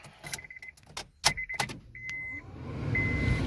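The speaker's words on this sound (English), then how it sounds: "that warm startup sounds good" A few electronic chime beeps and clicks, then a car engine cranks over and settles into a steady idle that keeps rising in presence.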